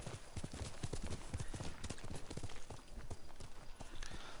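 Horse hooves clip-clopping in the samurai video game Ghost of Tsushima: a steady, close run of hoofbeats that continues throughout, with no talk over it.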